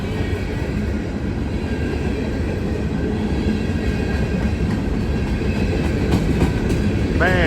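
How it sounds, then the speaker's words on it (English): Chicago and North Western freight train passing close by, a loud continuous roar of rumbling wheels and rattling cars with a brief wheel squeal near the end. "Look at this old Sioux line drainer."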